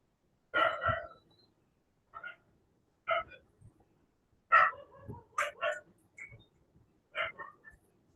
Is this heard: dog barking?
yes